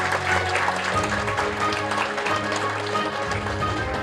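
Applause from the audience at an award ceremony for Rare Disease Day, with steady clapping that fills the room over a low background hum.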